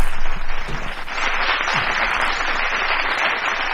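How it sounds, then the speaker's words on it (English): A round of applause on a talk-show style episode, loud and close, opening with a strong burst of clapping and then settling into a steady, dense wash of many hands for a few seconds. "Give me a round of applause."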